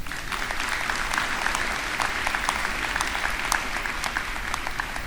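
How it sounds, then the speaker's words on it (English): Steady applause fills a high school graduation ceremony as the audience thanks the faculty, continuous and even, with a few sharper claps standing out. "Let's give them a round of applause."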